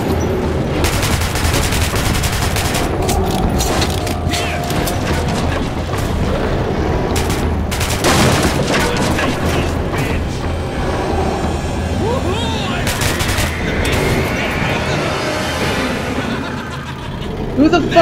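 Gunfire and explosions from the video game Metro Last Light, heavy continuous bursts and booms with shouting voices mixed in, loud and close throughout.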